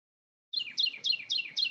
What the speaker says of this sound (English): I could hear the birds in the background